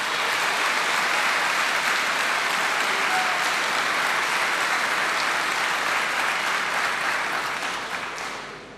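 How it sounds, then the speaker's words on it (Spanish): Sustained, dense applause from a large audience in a legislative assembly chamber during a presidential address, loud and steady throughout before thinning slightly at the end. "Por si no se escuchó por los aplausos"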